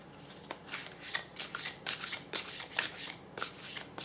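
A deck of oracle cards is shuffled by hand, giving a close, crisp series of riffling flutters that repeat about twice per second in an even rhythm, with nobody talking.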